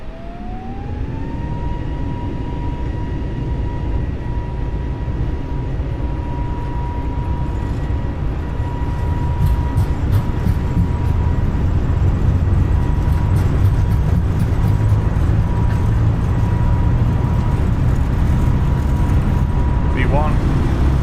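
Airbus A320 jet engines spooling up for the takeoff roll in Microsoft Flight Simulator 2020, a steady loud turbine roar with a rising whine that climbs then holds, rumbling continuously.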